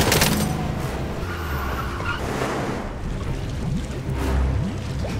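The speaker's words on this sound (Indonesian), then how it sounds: "Ia menabrakkan truk baja polisi yang di dalamnya berada Len sehingga truk itu tercebur ke dalam danau." A truck rams a steel police truck during a Mission: Impossible movie chase: loud, continuous engine roar with skidding, grinding impacts and a heavy crash surge near the end.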